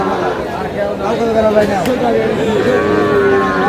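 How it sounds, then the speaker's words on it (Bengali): A dairy cow with her calf at the Aftabganj cattle market, lowing amid a steady hubbub of crowd chatter, with someone talking close by. "একটি গাভী বাছুর দেখছেন"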